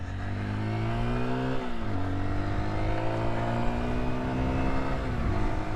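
A Honda XR150L motorcycle engine drones loudly while riding, its pitch climbing through the revs, dropping sharply at a gear shift, then rising again steadily up close.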